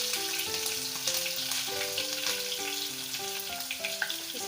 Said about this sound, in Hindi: अभी ये कटी हुई हरी मिर्चें हम इसके अंदर डालेंगे। ये उछलती हैं, ज़रा ध्यान से डालिएगा।